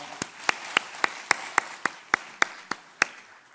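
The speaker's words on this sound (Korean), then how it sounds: "영광의 박수를 하나님께 드리겠습니다" A church congregation claps together in unison to a steady beat during a worship service, about eleven sharp claps at an even pace, moderately near.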